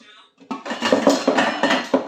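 Diced food clatters and sizzles as it tips into a saucepan, with metallic clinks and scraping from a utensil stirring in a steady rhythm.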